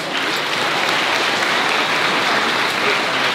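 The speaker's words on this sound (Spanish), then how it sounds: "Un fuerte aplauso, por favor." A crowd at a Guadalupe torch run event in December applauds strongly, a steady, dense and unbroken roar of clapping heard close and alone throughout.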